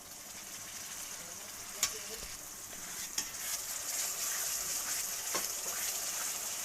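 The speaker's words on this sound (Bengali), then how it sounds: "এখন ওটা ভালো করে আবার ভেজে নিব" Ginger, garlic and cumin paste fries with onions in a pan, a steady close sizzling hiss with a few brief knocks and scrapes of stirring and no talking.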